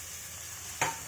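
Cut potatoes sizzle in a pan with ginger for a potato tomato curry: a steady low frying hiss, then a single short stirring scrape near the end, close and with no talking.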